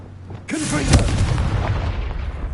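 A Confringo blasting curse in Hogwarts Legacy bursts with a single loud booming explosion that rumbles and fades over a couple of seconds.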